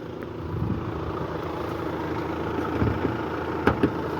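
A 2015 Volkswagen Passat with a 2.0 diesel engine and automatic transmission idles with the hood open, giving a steady low rumble that stays even throughout, with a couple of light knocks near the end.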